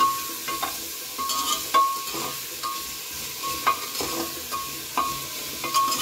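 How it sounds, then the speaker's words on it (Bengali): Cut potatoes and carrots are stirred and fried over a high gas flame for pav bhaji, with a steady close sizzle and repeated scraping strokes of the spatula at an uneven rhythm. "গ্যাসের ফ্লেমটাকে একদম হাইতে রেখে খুব ভালো করে নাড়াচাড়া করে নেব।"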